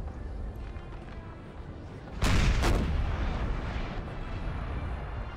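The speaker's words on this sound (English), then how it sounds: "Good strike there from the French artillery." Artillery fire in the video game Napoleon Total War booms as a couple of heavy, close cannon blasts midway, rising out of a constant low battlefield rumble.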